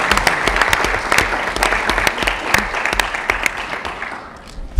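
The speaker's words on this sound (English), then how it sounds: "You should clap for him, too." Audience at a school awards event claps steadily for a social studies teacher called to the podium, a close, dense wash of many hands with sharp individual claps standing out, tapering slightly near the end.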